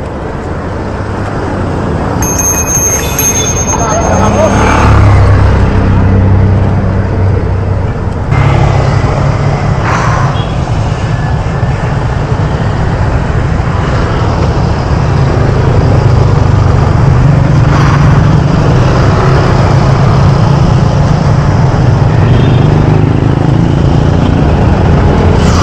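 Road traffic roars past on a bike ride during an Independence Day outing, a loud continuous wash of passing cars and motorcycle engines swelling and fading close by, with no speech.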